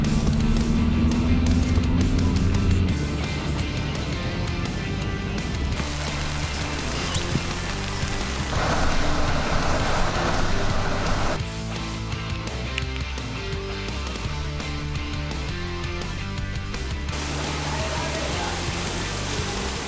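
Steady rain falls around an overhanging rock climbing crag in the Lofoten Islands, making a continuous broadband hiss and patter that holds evenly for the whole stretch with no voices.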